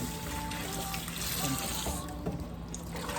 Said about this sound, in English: I'm using vinegar to wash the meat.